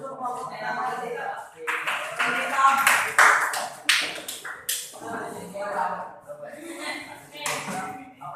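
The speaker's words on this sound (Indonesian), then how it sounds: "tepuk tangan untuk ngomong nama kita" A school classroom of students claps in bursts mixed with chatter and talking voices, uneven rhythmic applause rising and falling near the microphone.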